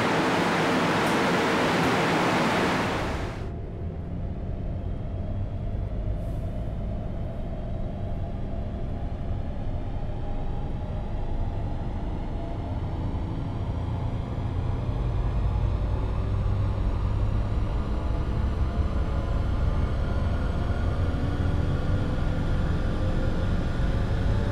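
An Audi W12 6.3 engine with 240,000 km on it, running under load on a dynamometer, a loud steady roar with a low rumble. It holds a sustained pull after a brief opening burst.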